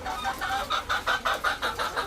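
A young adult desi hen clucks close by in a quick, regular series of about eight short clucks.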